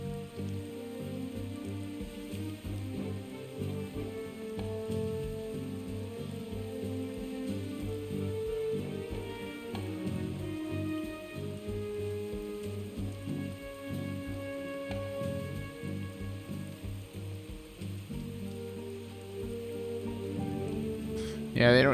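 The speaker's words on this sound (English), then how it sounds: "They just walk in the rain, you know." Steady rain pours down in the Last Stop video game, a constant hiss of drops on surfaces heard alongside a continuous low musical score.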